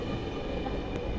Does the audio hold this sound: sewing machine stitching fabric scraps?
no